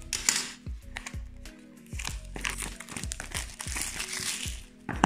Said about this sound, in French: Allez, on déballe, c'est parti.